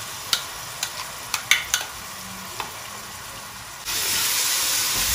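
Ginger garlic paste hits a pan with onions: a few sharp scraping clicks over a low hiss, then a loud broad sizzle bursts up and holds steady to the end.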